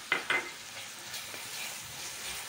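Fried onion with ginger garlic paste in a pan, two quick scraping stirs at the start, then a faint, steady sizzle, close and quiet.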